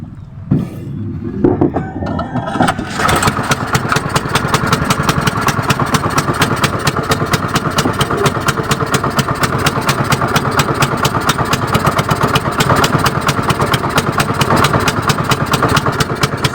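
A small engine sputters to life and then runs steadily with a loud, rapid buzzing drone, close by, with no talking.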